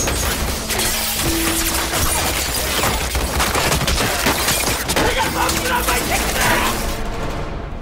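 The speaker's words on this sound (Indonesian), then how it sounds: "dia pun dilumpuhkan oleh berondongan tembak dari luar jendela" A sustained burst of gunfire fired through a window during a South Korean coup film scene, with rapid overlapping shots, cracks and rattling mechanisms filling the moment.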